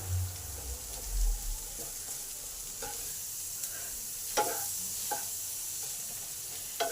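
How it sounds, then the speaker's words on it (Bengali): Hog plums and onions stir-frying in a pan, a steady soft sizzle with occasional scrapes and taps as the pieces are turned, plus a low rumble at the start. "মাঝে মাঝে আমড়াগুলো আর পেঁয়াজগুলোকে নেড়ে নেড়ে দিতে হবে, যাতে ভাজাটা ঠিক হয়।"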